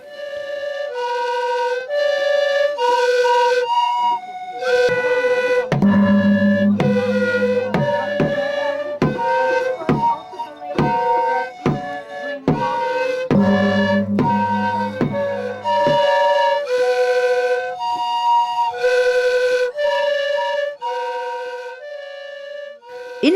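A bamboo flute fitted with wax, of the kind played at festivals alongside songs and dances, plays a clear melodic tune of sustained and repeated notes. Percussive beats sound under the phrases at times.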